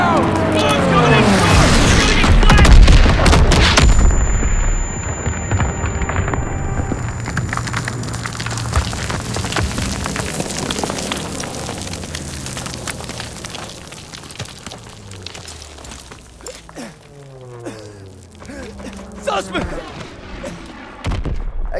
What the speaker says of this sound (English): P-47s are coming in! Enemy troops! Clear out! Bombs coming in!